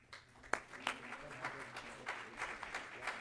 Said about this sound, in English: Give the Lord a good hand clap offering of praise this morning